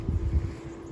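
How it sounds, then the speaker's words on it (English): Outdoor wind buffets the microphone beside pool equipment, a low rumbling gusty roar that swells and fades over a second, with no talking. "Sorry about the wind."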